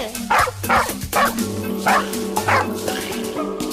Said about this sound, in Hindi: अरे ये कुत्ता तो मेरे बच्चे के पीछे ही पड़ा हुआ है,